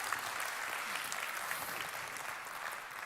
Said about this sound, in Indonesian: berikan tepuk tangan untuk Pak Menteri Agus Kartasasmita